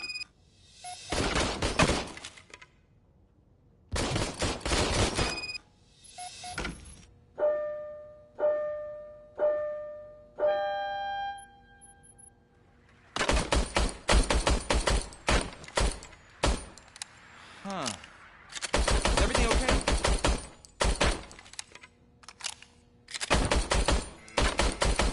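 Bursts of rapid gunfire from an old, faulty service pistol in the Robocop Rogue City video game, loud repeated volleys separated by pauses, with a brief tonal mechanical chime sequence in between.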